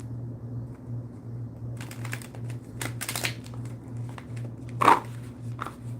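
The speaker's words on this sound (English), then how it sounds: "My shuffle game is off." Tarot cards being shuffled by hand, with quick papery riffles and taps over a steady low hum.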